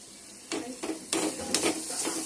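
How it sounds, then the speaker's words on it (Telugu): Ingredients for mango pulihora fry and get stirred in a pan on high flame: a faint background sizzle punctuated by several short bursts of louder hissing and scraping as the mix is tossed, with no voices. "హై ఫ్లేమ్లో పెట్టుకొని కాసేపు వేయించుకోవాలి."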